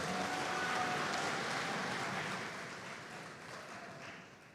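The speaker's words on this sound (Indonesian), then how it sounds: "Beri tepuk tangan yang meriah." Applause from a congregation at a Catholic Eucharist celebration in Cilacap, a soft, even wash of clapping that fades gradually toward the end, heard alone without speech.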